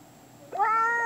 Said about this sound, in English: Oh, it's this annoying cat again.